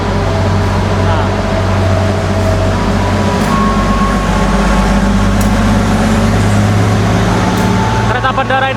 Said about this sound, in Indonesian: Di stasiun Wates kita berpapasan dengan kereta api Bandara YIA dari stasiun Bandara YIA ke tujuan akhir stasiun Yogyakarta menggunakan rangkaian KRD